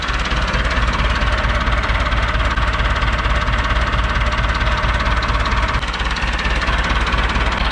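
An old Lull all-terrain forklift, left sitting for 25 years, idles steadily with blow-by, a loud, close, continuous rough engine drone with a faint knocking texture and no talk.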